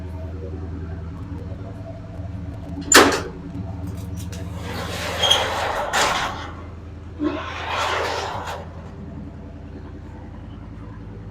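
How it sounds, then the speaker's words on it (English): A sharp metallic click followed by the creak and thud of a flooded Chrysler SRT8's car door being opened, then a second rustling movement; no talking. "let me just crack this door here."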